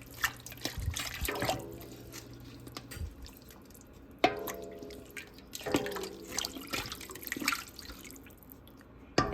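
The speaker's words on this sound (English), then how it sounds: "And give it a stir." Cornbread dressing mixture being stirred in a pot, with wet, sloppy scraping and liquid splashes in uneven bursts, fairly close and moderately quiet, with no talking.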